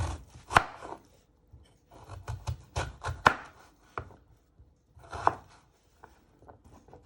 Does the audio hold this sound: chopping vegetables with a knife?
yes